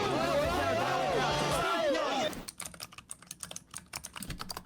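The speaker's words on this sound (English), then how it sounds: "Loud ass keyboard" Loud computer keyboard typing, a rapid irregular clatter of keystrokes heard up close after a stretch of overlapping voices and game chatter.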